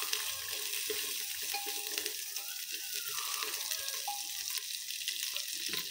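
Green peas, coriander leaves and rice fry together in a pan for matar pulao. A steady close sizzle runs under repeated scraping and stirring sounds.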